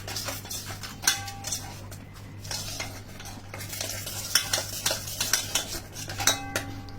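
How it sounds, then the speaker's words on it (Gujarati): A spoon stirs a chickpea flour mixture in a pot for khandvi, with repeated scraping and clinking against the metal in an uneven rhythm over a steady low hum. "હું એકવાર પહેલાં આવી રીતે મિક્સ કરી લઉં છું, જેથી એના બધા લમ્સને ડિઝોલ્વ કરી દે"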